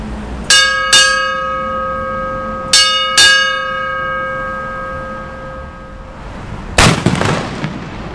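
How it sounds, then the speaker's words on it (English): Noonday Gun, a cannon at Causeway Bay in Hong Kong, fires one loud outdoor boom that cracks and rumbles off the surroundings, after clear bell chimes ring twice in pairs. "fired every day from the same spot at Causeway Bay, except for New Year's Eve"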